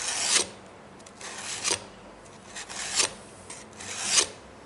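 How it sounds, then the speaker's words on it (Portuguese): A knife blade being sharpened on a carborundum-grade abrasive sheet on a homemade sharpening kit, with four steady raspy strokes spaced about a second apart, close and moderately loud, with no talking. "Até agora o que a gente fez corresponde a uma fiação de pedra carborundum."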